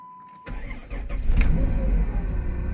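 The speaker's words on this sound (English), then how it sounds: "Fires right up." 1998 Dodge Grand Caravan SE minivan engine starting: a faint tone, then a quick starter crank that catches and fires into a rising roar before settling to a steady, fairly close idle.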